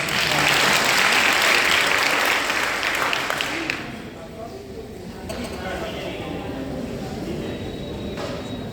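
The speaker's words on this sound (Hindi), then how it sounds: "एक बार जोरदार तालियां दीजिए" Loud audience applause at a stage event fills the first few seconds, then fades into quieter room ambience as the clapping dies away.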